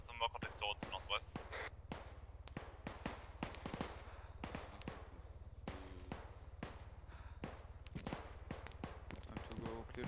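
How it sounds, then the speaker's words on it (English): Rapid bursts of gunfire crackle in an Arma 3 military shooter match, sharp repeated shots at varying distances forming a dense, continuous volley throughout, with faint voice chat underneath. "Hearing a lot of gunfire"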